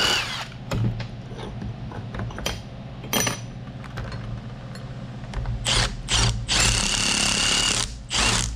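A small 3/8-inch impact wrench rattles off bolts on a John Blue L Series piston pump hydraulic head, firing in several short hammering bursts with pauses between, close and loud, ending in a longer stretch of rapid impacts.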